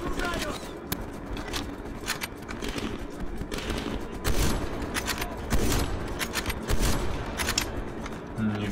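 Rapid bursts of machine gun fire and scattered shots in Call of Duty: Black Ops Cold War, continuous crackling volleys with louder surges, heard beneath people talking.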